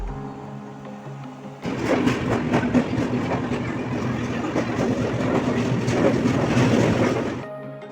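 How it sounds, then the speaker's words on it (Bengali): A late passenger train rolls into a station near Sambalpur, Odisha: after a quiet platform lull a loud rumbling roar sets in abruptly, with rhythmic clattering of wheels on rail joints that continues steadily before cutting off. "অনেক অপেক্ষা করার পর ফাইনালি আমাদের ট্রেন চলেও এসেছে"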